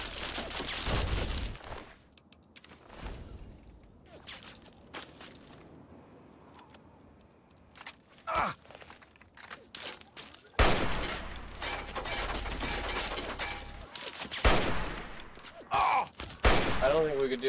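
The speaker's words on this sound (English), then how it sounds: "There's another one with a machine gun." Machine gun fire in the video game Fallout 3 rattles in scattered bursts of sharp gunshots, some loud and close and others fainter, with quieter stretches between volleys.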